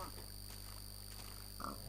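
Pig oinking in Minecraft, a short grunt near the end over a steady, faint background hum with no talk.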